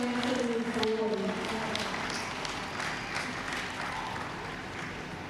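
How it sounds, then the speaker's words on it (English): Audience applause for Meritorious Service Award recipients at a National Day Parade ceremony, a steady broad wash of clapping that holds throughout and fades slightly toward the end. "And now invite you to have another round of applause to all of our Meritorious Service Awards."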